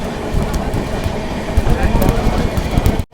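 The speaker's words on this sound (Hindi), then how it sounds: "फिलहाल अपनी ट्रेन सिकोहाबाद जंक्शन स्किप मार रही है" The Baba Baidyanath Dham Express runs through Shikohabad Junction without stopping, a loud, close, continuous roar of wheels and carriages with a rhythmic clatter, heard from on board until it cuts off abruptly.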